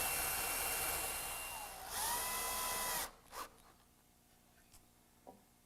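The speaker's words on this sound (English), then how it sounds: "I'll pre-drill some holes for screws" Power drill pre-drilling screw holes in wood for a miter bench, a steady high whine running for about three seconds with a rising tone near the end, then stopping and followed by a few faint knocks.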